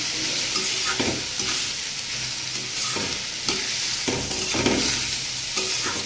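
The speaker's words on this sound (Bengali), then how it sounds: "এবার এটাকে নেড়ে চেড়ে ভালো করে ভেজে নেব" Cabbage with ginger sizzles steadily in hot oil while it is stirred in the pan, with scraping strokes of the spoon repeating every second or so over a constant loud frying hiss and no talking.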